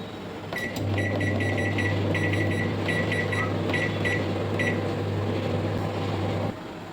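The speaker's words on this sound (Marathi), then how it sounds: "हे केकचं भांडं मी मायक्रोवेव्हमध्ये ठेवते।" A microwave oven on heating mode baking an eggless red velvet cake hums steadily with a low drone, overlaid by a series of soft intermittent electronic beeps or clicks, then cuts off.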